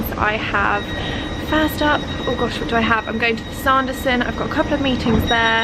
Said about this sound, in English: Sorry, that's the train in the background.